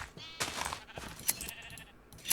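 Several Minecraft sheep bleat in quick succession, short nasal calls overlapping and fairly close, with small clicks of game activity between them.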